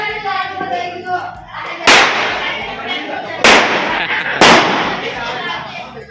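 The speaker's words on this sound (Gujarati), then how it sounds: "આ બહારનું સીન જ્યાં ફટાકડા બહુ ફૂટી રહ્યા છે." Several sharp, loud firecracker bursts go off outdoors during Diwali celebrations, three standing out clearly at spaced intervals over a steady background of crackling, distant pops and voices.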